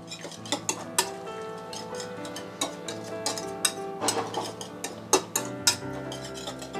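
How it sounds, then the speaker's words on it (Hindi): An egg mixture with salt is whisked in a bowl for paratha, the whisk clicking and scraping in a quick irregular rhythm with sharp metallic ticks, close and moderately loud, no talking. "विस्क की हेल्प इसको मिक्स करेंगे"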